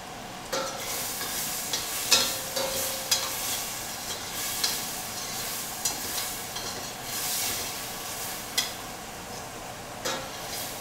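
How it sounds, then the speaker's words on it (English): Beef sizzles and fries in a hot pan, a constant loud crackling hiss broken by a series of sharper pops and scrapes as it is stirred, close by. "I hear my beef sizzling"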